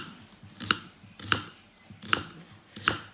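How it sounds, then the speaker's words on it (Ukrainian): An onion being chopped finely on a board for homemade ramen, four crisp, evenly spaced knife strikes up close with quiet pauses between. "Витерли і нарізаємо цибулю. Дрібненько."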